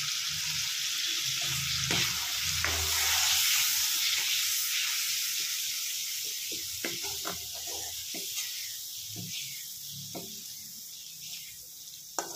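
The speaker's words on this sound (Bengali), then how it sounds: "এবার এটাকে ভালো করে আমরা ভেজে নেব মশলাটা" Spice paste frying in oil for a Bengali pointed gourd (potol) tel jhal gives a steady, close sizzling hiss with scattered small pops and crackles throughout.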